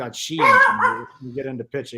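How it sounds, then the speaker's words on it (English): A pet dog barks in the background while someone talks over it during a sports discussion. "No, that was my dog. That was barking."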